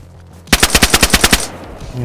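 Automatic gunfire in the survival video game DayZ, a loud burst of about ten rapid, evenly spaced shots lasting roughly a second, then fading into quiet ambience.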